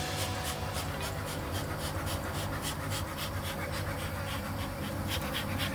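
Dense, agitated buzzing of many bees swarming close by in an opened hive, a continuous loud drone with fluctuating pulses and no talking.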